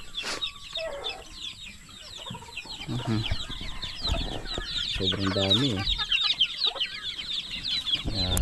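A mother hen and her many chicks give busy clucks and high, shrill peeping, close and continuous, with short spoken remarks mixed in.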